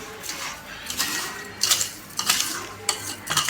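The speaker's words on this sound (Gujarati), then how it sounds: "હવે આને આપણે હલાવી દઈશું રોજ બે વાર હલાવવાનું" Mango pieces coated in fine sugar stirred in a container, producing a few crisp scraping and clinking strokes spaced about half a second apart, close and fairly quiet, with no voices.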